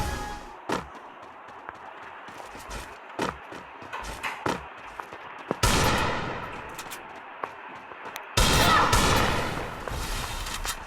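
Desert Eagle pistol fire in the shooting game Free Fire: sharp single shots spaced irregularly, then two longer, louder bursts of gunfire with echoing tails.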